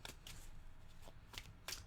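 Tarot cards being shuffled and drawn during a live reading, heard as a few quick, close riffling bursts separated by short pauses, with no talking.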